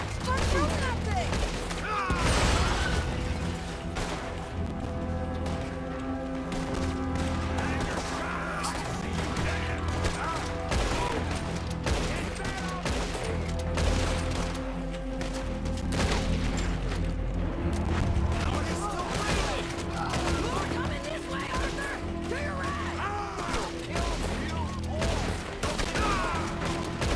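Sustained gunfire and crashing impacts from Red Dead Redemption 2 fill a long shootout, shots overlapping in a constant dense barrage with voices talking over the chaos.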